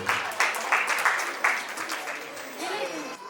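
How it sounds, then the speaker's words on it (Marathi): An audience claps through a bright burst of applause that fades within a few seconds, while a voice speaks over it. "प्लीज टाळ्या होऊ द्या सगळ्यांसाठी"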